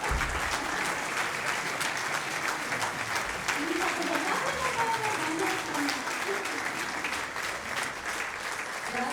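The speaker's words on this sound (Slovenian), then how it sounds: "En aplavz, prosim, lepo." An audience at a folklore group's 30th anniversary celebration claps in sustained, dense applause, while a voice speaks over the clapping and some faint musical tones rise briefly in the middle.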